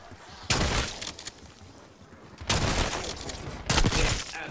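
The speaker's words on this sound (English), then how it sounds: "Oh shit, light machine gun." A light machine gun in the video game Black Ops 6 fires three long sustained bursts, loud and close, with short quieter pauses between them.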